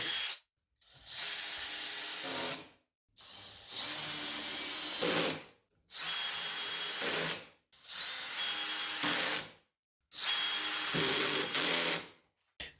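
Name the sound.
drill driving pocket screws into jig sides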